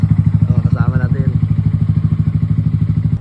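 A motorcycle on a long motovlog ride, its engine throbbing loudly and close in a steady low pulse, with someone talking over it.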